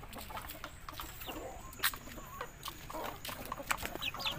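Chickens on a hot farm feed together, with soft scattered clucks and brief calls over steady outdoor background noise.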